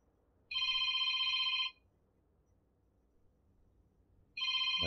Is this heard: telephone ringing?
yes